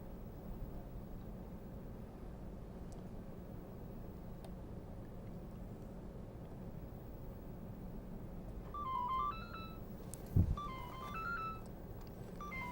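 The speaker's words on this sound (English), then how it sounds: "Excuse me, my phone is ringing." A mobile phone ringtone plays a short melodic pattern of bright electronic tones late in the stretch, faint against a steady low room hum.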